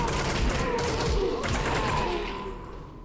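Gunfire from a gun in Half-Life: Alyx, a dense rattling burst of shots with mechanical clanks and low booms, holding steady loudness before tapering off slightly at the end.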